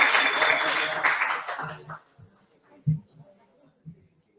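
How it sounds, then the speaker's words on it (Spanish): A workshop audience gives a short burst of applause. Dense clapping lasts about a second and a half and then fades to a few scattered claps, with voices talking beneath it. "Un aplauso, por favor."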